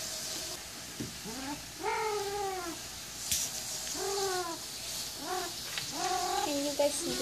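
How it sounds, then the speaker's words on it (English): Pet cat meowing loudly and repeatedly indoors, long drawn-out wavering meows in several separate calls over steady background hiss, close to the listener. "She's meowing a lot."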